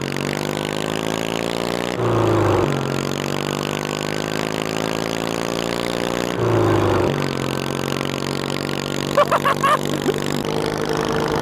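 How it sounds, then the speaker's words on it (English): A lawn mower engine runs steadily nearby, its pitch dropping briefly twice as it shifts gears, with a few sharp clunks near the end. "It sounds so cool to shift gears on a freaking lawnmower"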